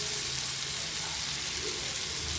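Food frying in a pan ahead of the eggs gives a steady, even sizzle, close and continuous with no talk over it.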